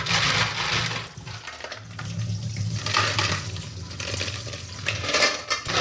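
Freshwater clams being washed in water in a metal pot, with steady splashing and sloshing plus clinking and rattling of shells against the pot throughout, fairly close.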